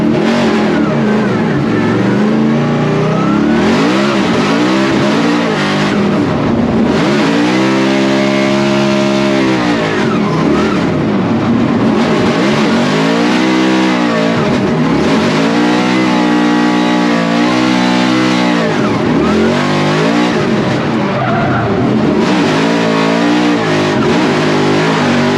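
A Formula Drift car drifting on track at a St. Louis competition, loud and close with engine revs rising and falling in repeated sweeps under continuous roar.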